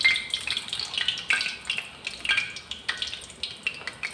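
Sago and buttermilk fritter batter dropped into hot oil and frying, a steady close crackling sizzle with bubbling pops throughout, no voices.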